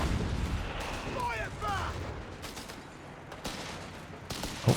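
Rifles fire in a Company of Heroes 3 four-versus-four battle: scattered single shots crack out at irregular intervals, somewhat distant, over a constant din of combat.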